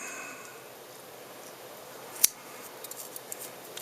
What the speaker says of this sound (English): I'm going to trim a taper to it